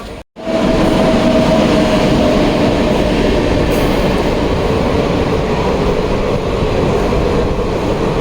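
A train rumbles loudly and steadily nearby at a railway station, a dense roar with a faint metallic whine running through it and no voices.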